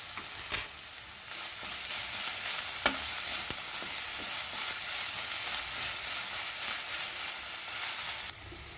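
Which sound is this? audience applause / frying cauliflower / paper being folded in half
frying cauliflower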